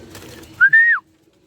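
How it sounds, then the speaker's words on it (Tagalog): A single clear, high whistled call from birds released onto a loft roof, rising then sliding down, brief and close, over a low background murmur. "Mga ibon natin, pinakawala na doon sa bubong."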